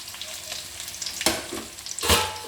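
Onions, curry leaves and green chilli fry in hot oil in a pan with a soft, steady sizzle close by. Two brief louder crackles or stirring scrapes break through, and no one speaks.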